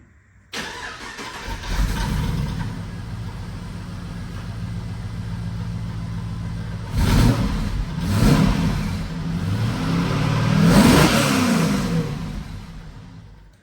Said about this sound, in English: it actually sounds like there's a V8 in there now